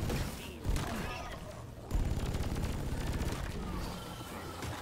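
Rapid gunfire from an overheating weapon in the video game Deep Rock Galactic, sustained bursts of shots with a short pause between them, loud and dense over game ambience.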